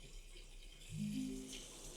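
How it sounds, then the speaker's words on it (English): Water runs in a steady, controlled stream from a tap fitted with an aerator in a tropical fish room, a soft continuous hiss that rises slightly midway, heard alone. "I actually put an aerator on it as well. So it doesn't just come flying out and splashing everywhere."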